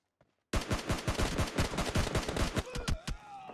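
Rapid automatic gunfire from PUBG Mobile rattles in a dense, loud burst after a brief quiet start, shots overlapping continuously for about three seconds before tapering into a few spaced reports.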